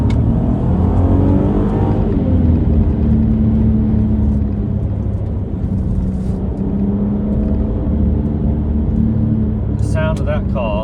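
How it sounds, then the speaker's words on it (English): An Audi TT V6 engine revs loudly and steadily close by, a deep sustained drone that climbs and holds, with someone talking briefly near the end. "Sound of that car is just phenomenal, absolutely phenomenal, and that's the reason why I went for the V6"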